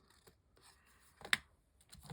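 A few quiet snips and paper rustles close by, with one sharper cut standing out in the middle against near silence.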